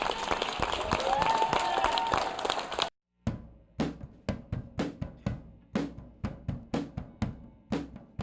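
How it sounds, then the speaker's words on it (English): Applause from a pitch-day audience for a startup team swells as a dense crowd wash, cuts off abruptly, then gives way to a few scattered, sharp individual claps spaced unevenly near the microphone. "Big round of applause for One Crystal Image."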